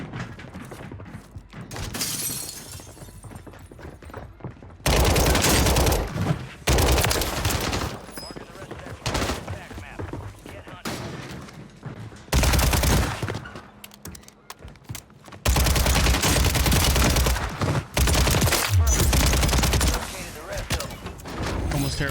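Rapid bursts of SMG gunfire in the shooter game Warzone (Modern Warfare 3), loud repeated volleys separated by brief lulls, close up with game effects and occasional voices.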